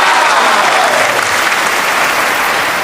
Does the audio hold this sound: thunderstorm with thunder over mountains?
no